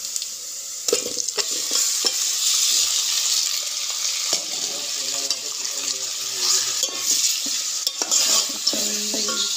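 Mutton frying in hot oil sizzles loudly and steadily for the whole stretch, with frequent clinks and scrapes of a spoon stirring in the pan, close up and without talk.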